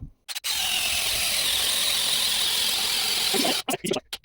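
Cordless drill driving a 25 mm spade bit into oak, a loud steady high whine with strained squealing for over three seconds between short bursts of motor at the start and end.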